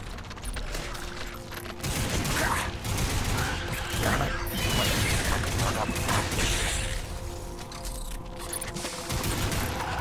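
A video game battle with grenade explosions and gunfire, heard as dense, continuous rattling shots and booming bursts that stay loud throughout.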